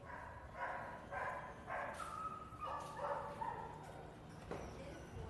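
Several dogs bark in short repeated bursts, a little distant and muffled, with a voice faintly speaking among the barks.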